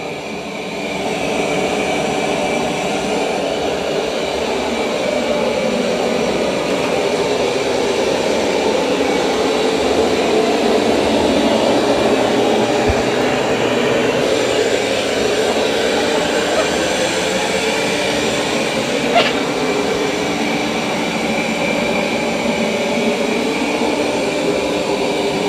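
A continuous, loud whirring hum of a Roborock robot vacuum working over carpet, steady throughout with a slight shift in tone midway.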